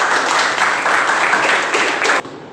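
A classroom group claps on cue in a short, fairly loud burst of hand clapping lasting about two seconds, then cuts off abruptly.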